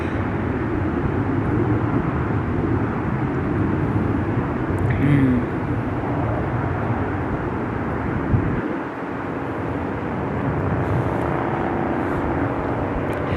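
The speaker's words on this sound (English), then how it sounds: "You guys hear all that traffic?" Road traffic rolling past a Colorado trailside spot, a continuous broad roar of distant vehicles with a brief dip partway through and faint voices under it.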